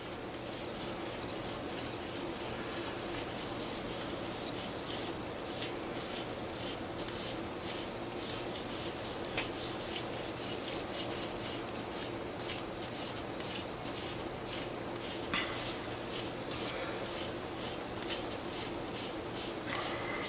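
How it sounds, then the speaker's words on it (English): Steady, light rubbing and rasping of wet sandpaper against a spoon, continuous and close, with no talking. "dip the sandpaper in the water, and we're just going to lightly start"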